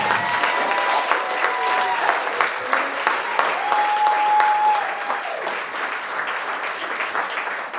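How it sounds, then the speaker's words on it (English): Audience applause for a graduating high school class at a Class of 2020 commencement ceremony, steady dense clapping from a large crowd sustained throughout with slight swells, no speech over it. "Let's give our class a round of applause."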